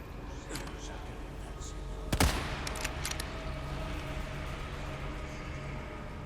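Gunfire in Resident Evil 4 Remake: one sharp, loud shot cracks out midway, followed by a few lighter clicks and taps over a steady ambient game background.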